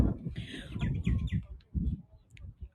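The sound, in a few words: Australian magpie warbling song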